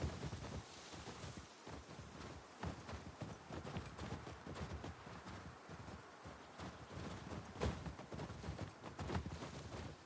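Rhythmic clip-clop of horse hooves galloping steadily over rough ground in The Last of Us Part II, with a rustling, windy wash behind the hoofbeats.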